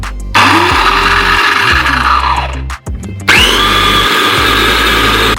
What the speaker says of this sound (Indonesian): Lalu kita akan chopper. Kita mulai dari high.